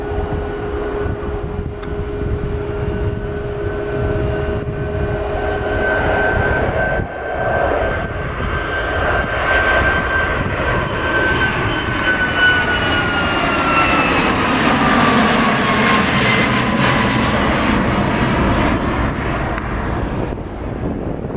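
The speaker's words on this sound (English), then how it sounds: "There is the United 737 MAX 9, the first passenger flight off to Houston" United Boeing 737 MAX 9 jet taking off on its first passenger flight to Houston from Portland, loud engine roar with a steady whine that swells and sweeps higher as the airliner accelerates past, sustained for about twenty seconds.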